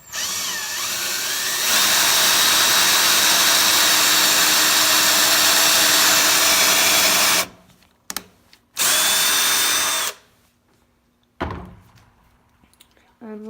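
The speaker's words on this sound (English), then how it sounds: "You stick it in, start drilling." A power drill whines loudly and steadily for several seconds drilling a pocket hole in a board, stops, revs again in a short burst, then a few clunks and knocks follow.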